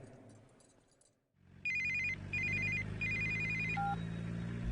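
An old-style telephone bell rings in three sharp, loud bursts after a moment of quiet, with a steady low hum beneath and a short final tone.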